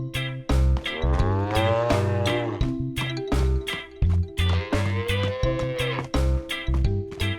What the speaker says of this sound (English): Peppa takes care of the dairy cows.